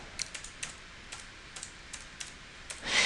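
A handful of soft, sparse keystrokes on a computer keyboard typing a search word, faint and spaced out in a quiet room, ending with a brief rustle.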